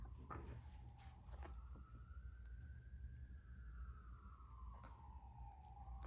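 An emergency siren wails outside, a faint rising and falling tone that drifts past at a distance over low traffic rumble, heard alone without talk.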